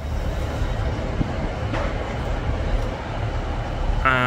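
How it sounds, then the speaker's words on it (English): A Class 150 diesel train sits at a Stockport station platform, giving a steady low rumble of idling engine and station ambience throughout, with a brief brighter tonal whine rising near the end. "We've got a class 150 right there."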